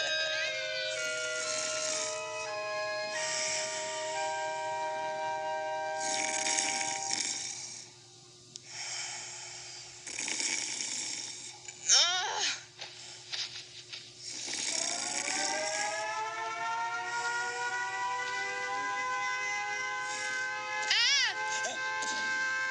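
A male cat named Mushi meows in long, drawn-out, wavering cries, several in succession over a steady low hum, with loud mewing near the middle and end.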